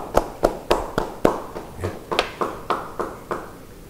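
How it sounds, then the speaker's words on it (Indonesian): Church audience clapping hands in praise to God at a sermon by Pastor Timothy Roy, a steady rhythmic run of about fifteen sharp claps, fairly close and loud, with no talk over them. "beri tepuk tangan buat Tuhan"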